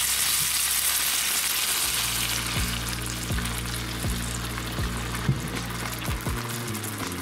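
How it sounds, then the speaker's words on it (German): Water poured into a pan of browned cabbage rolls (Krautwickel), giving a steady loud sizzle and bubbling frying hiss with occasional clinks throughout, no talk. "Jetzt gieße ich das noch ein wenig mit Wasser auf."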